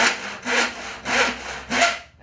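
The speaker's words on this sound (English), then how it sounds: "what I do is I just put a groove in this with that handsaw just at the top" A handsaw cuts a shallow starter groove into pallet wood, four rhythmic rasping strokes close by, alone.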